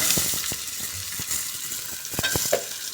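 Tomato, onion, green chilli and ginger paste sauté together in a hot pan, a steady close sizzle broken by repeated scraping stirs and clinks of the spoon throughout.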